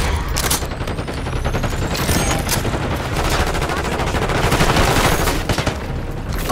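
Dense gunfire in Call of Duty: Black Ops 6, loud continuous rapid automatic bursts layered with overlapping shots and occasional booms from a combat mission, filling the whole stretch without speech.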